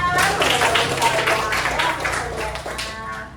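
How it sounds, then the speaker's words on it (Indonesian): A class of children claps hands together in a classroom, a brief burst of uneven clapping mixed with young voices chattering over it. "Oke, tepuk tangan."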